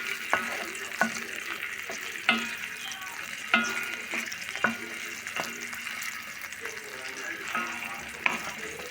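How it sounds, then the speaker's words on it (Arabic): Chicken breast meatballs frying in a pan with oil and butter, a steady sizzle punctuated by repeated sharp clacks and scrapes of stirring, close and moderately loud, no speech. "غنضيف شويه الزيت في المقله وشويه الزبده، وغادي نشحرهم"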